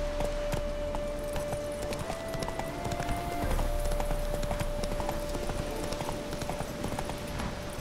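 Roach the horse galloping in The Witcher 3, a steady, rhythmic clip-clop of hooves running continuously over ambient game sound.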